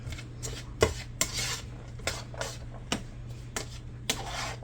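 A utensil scrapes and taps through vegetables sautéing in a skillet for a Steak-umm and rice dinner, with irregular clinks and scrapes over a faint sizzle, close by and without talk.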